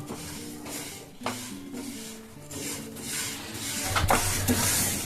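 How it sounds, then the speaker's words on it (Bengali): Moong dal dry-roasting in a pan while being stirred gives a dry, rustling scrape with repeated rhythmic strokes of the spoon and a few sharper knocks against the metal. "এবার এই মুগ ডালগুলোকে আমি ভেজে নেবো"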